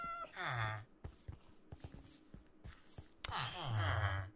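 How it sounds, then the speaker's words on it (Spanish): A cat in the video game Minecraft meows twice, once near the start and again toward the end, each a clear, fairly loud call, with someone talking in between. "Y un gato, espérate. He escuchado un gato."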